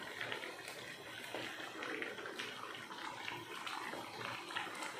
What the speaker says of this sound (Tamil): தண்ணி சேர்த்துட்டு நல்லா கலந்து விட்டுடலாம்.